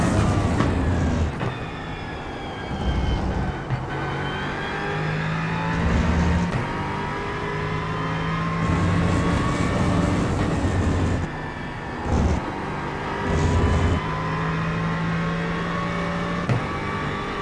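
Several GT3 race cars on cold tyres in the iRacing sim, engines droning and revving steadily with gear shifts, multiple cars close together in a continuous loud pack with no talk.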